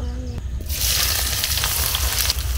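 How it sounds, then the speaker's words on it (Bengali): Onion slices for biryani beresta hit hot oil and burst into a loud, steady sizzle after a brief quiet start, crackling continuously up close. "এবার কিছুটা বেরেস্তা ভেজে নেব।"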